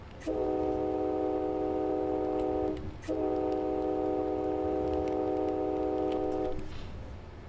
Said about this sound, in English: Maxwell, whenever you see a crossing in the USA, you don't tap the horn, you lay on it forever